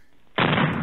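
Gunfire breaks out on command during Patton's Third Army breakout into Brittany in World War II: a sudden loud burst that starts after a brief quiet and holds as a dense, continuous roar, as in an archival wartime film.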